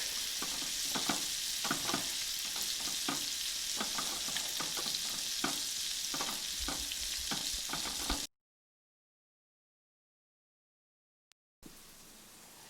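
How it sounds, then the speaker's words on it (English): Floured red snapper fillets cook in a pan over gentle heat, giving a close, even sizzle and crackle with faint ticks, then a sudden cut to silence before the sizzling briefly resumes. "So dust it and put it right in and allow it to cook on a slow simmer, and then we'll increase the heat."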